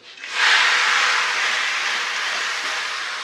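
Kochur loti (taro stolons) dropped into a hot kadai for a Bengali chicken stew, bursting into a loud, sudden hiss that holds strong and then slowly eases, close up with no talking.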